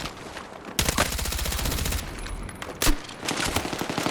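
Automatic gunfire in the video game Battlefield 6, several loud rapid bursts of rattling shots with short pauses between them, close and dominant over the game's background sound.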